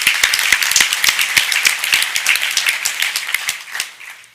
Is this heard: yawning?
no